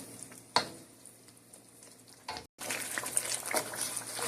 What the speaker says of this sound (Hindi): ये विंग्स को हम अच्छी तरह से इसमें भूनते हैं